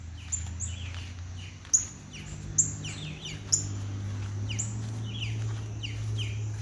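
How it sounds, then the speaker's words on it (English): A backyard bird, among a chicken and rooster flock, gives repeated sharp chirps and squawks over a steady low outdoor hum, with a few louder close calls standing out. "I heard him squawking, looking for his friends."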